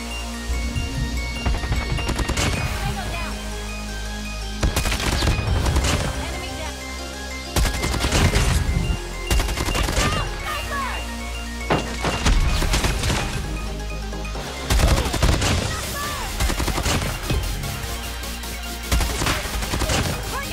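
Kilo 141 assault rifle fire in COD Mobile rattles out in loud, rapid automatic bursts separated by short pauses, with faint game voices underneath.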